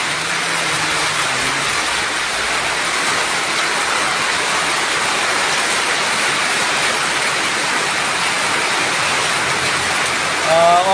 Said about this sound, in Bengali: অনেক বৃষ্টি। একটা টিনের ছালের নিচে আছি